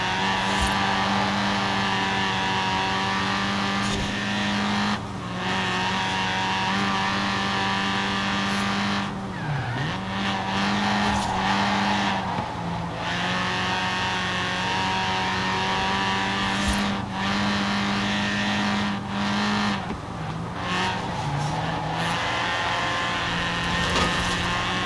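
A car drifting on a mountain touge road in Forza Horizon 4, running stock tires, with a steady engine drone and long, loud tire squeals that rise and fall through repeated slides and gear changes.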